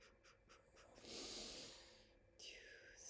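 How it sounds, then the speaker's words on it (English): A sleeping child snores nearby, with soft breathy snorts and drawn-out inhalations in a quiet indoor room. "my child is asleep right there snoring"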